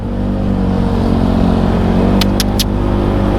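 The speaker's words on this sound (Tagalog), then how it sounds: "Ingay ng pipe natin. Ang kalansing talaga." A vehicle's noisy, rattling exhaust pipe on a busy road in EDSA gives a steady loud engine drone with a metallic clatter, and a few sharp high clanks come near the end.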